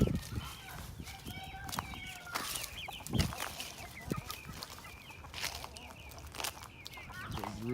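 Rooster and chickens clucking in a backyard coop and yard, a mix of close and farther calls over outdoor background noise, with occasional rustling and footsteps.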